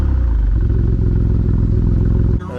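Maserati MC20 engine with its exhaust, running as a continuous loud, buzzy drone with a dense stack of low harmonics and a slight rising pitch, dropping away near the end.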